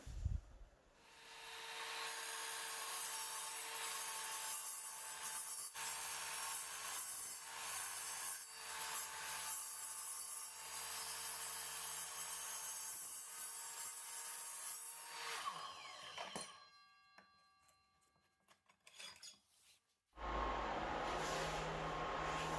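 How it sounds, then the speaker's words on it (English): Steel angle iron being cut for a steel gate frame, a long continuous abrasive grinding rasp lasting about fifteen seconds, close and loud, then a short lull before the cutting noise resumes. "now it's time to get the angle iron cut for the centers and welded in"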